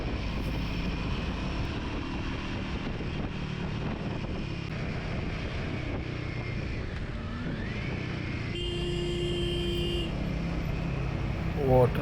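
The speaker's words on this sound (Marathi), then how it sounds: "भारी मजा येते बाईक चालवायला." A motorcycle ridden on the winding Amboli ghat road produces a steady engine drone mixed with wind rush, holding an even level throughout.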